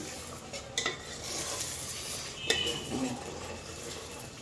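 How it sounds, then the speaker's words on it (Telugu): Gongura chicken curry with gravy is stirred in a pot, a soft continuous scraping and gentle bubbling with a couple of metallic spoon clinks against the vessel, heard close and without speech. "ఇప్పుడు మళ్ళీ కలిపేసుకొని"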